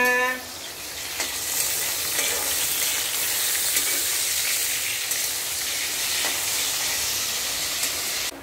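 Continuous loud crackling and sizzling of palm fritter batter frying in oil, steady throughout with occasional pops.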